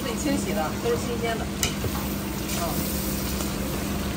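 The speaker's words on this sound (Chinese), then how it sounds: "倒入这些现切的新鲜羊杂" Fresh-cut lamb offal simmers in a big pot of soup at a street food stall in Dangshan, Anhui, giving a steady bubbling, stirring sizzle throughout while people talk over it.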